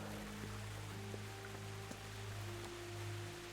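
Soft, steady rain hiss from a video game runs throughout with a low hum beneath and a few faint clicks, fairly quiet and with no voices.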